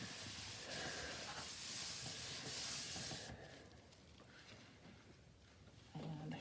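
Running water rinses a freshly made piece of wet felt, a steady broad hiss that stays fairly quiet, grows brighter near the start, then softens to a duller splashy flow, with no voices.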